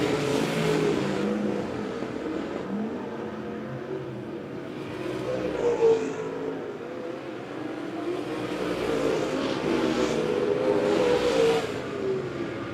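USRA stock cars roar around the Monett Motor Speedway oval, engines blending into a loud, continuous drone that swells and fades as the pack passes and accelerates through the turns, with no voices.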